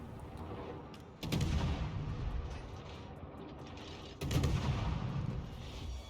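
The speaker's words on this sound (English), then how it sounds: "I'm just firing at a point on the map." Artillery in a tank video game, two heavy booming shots a few seconds apart, each swelling into a long rumbling roar that lingers before the next blast, no voices over it.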